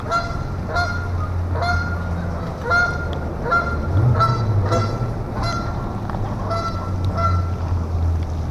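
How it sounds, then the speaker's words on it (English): Geese honking repeatedly nearby at a riverside city park in the rain, calls coming in irregular bursts over a low rumbling background. "Oh, the geese are over here."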